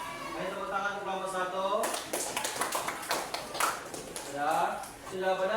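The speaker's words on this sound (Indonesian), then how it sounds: "Ayo tepuk tangan untuk kelompok" In a classroom, a group that has just presented gets a scattered round of claps, a few quick irregular slaps that come after a stretch of talking, with voices continuing over and around them.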